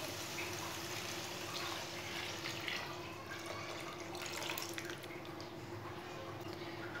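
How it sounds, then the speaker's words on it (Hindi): Milk poured into a pan of roasted carrots for gajar halwa, a steady liquid splash and trickle running continuously at close range, with no talk. "एक किलो दूध डाल लेंगे।"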